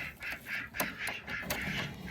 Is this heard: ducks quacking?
yes